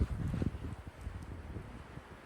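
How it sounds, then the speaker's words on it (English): Winter wind over a hillside garden of little bluestem grass rumbles as low, gusty buffeting against the microphone, soft and fluctuating, with a stronger gust at the start. "And the wind is picking up, and I can tell the temperatures are dropping."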